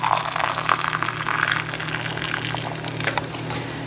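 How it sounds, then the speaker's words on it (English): Boiling water poured from a jug into a cup, a steady splashing liquid stream running close and fairly loud for a few seconds with no talk. "you just take a cup of boiling water"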